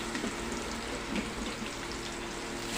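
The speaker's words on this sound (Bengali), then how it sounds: "কালো জিরে দিয়ে দিলাম বন্ধুরা, কেটে রাখা বেগুনগুলো দিয়ে দিচ্ছি তেলে।" Cut eggplant fried in hot oil with black cumin seeds gives a dense, even sizzle and crackle from start to finish, fairly soft and close, with no talk over it.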